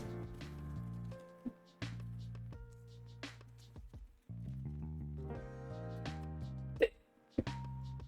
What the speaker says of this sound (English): Oh, darn hiccups.